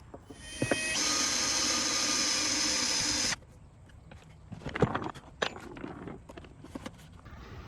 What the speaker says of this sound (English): So I'm just gonna drill a hole right about here.